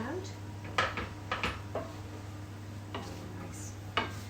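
Cherries stirred around in a bowl while preparing a trout dish, giving a handful of light clinks and taps of a utensil against the bowl over a steady low kitchen hum.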